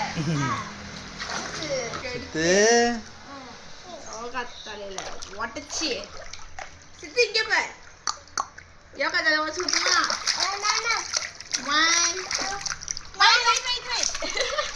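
Water sloshes and splashes from burst water balloons during a hot summer day's outdoor play, with repeated splashes throughout while children talk and shout excitedly over them.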